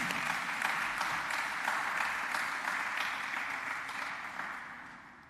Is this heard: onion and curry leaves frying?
no